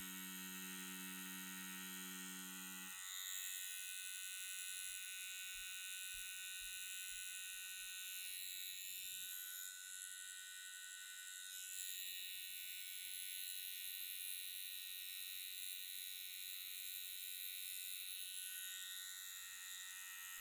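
A Cheyenne Sol Nova Unlimited 4.0 rotary tattoo machine running at 8.8 volts gives a steady, close, high-pitched electric buzz that holds without a break throughout, with a low hum briefly audible at the start.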